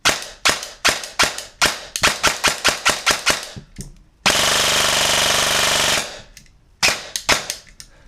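Lonex M4 airsoft electric gun with a shimmed gearbox fires a quick run of single shots in a regular rhythm, then a loud sustained full-auto burst of about two seconds, then a few more semi-auto shots, close and loud.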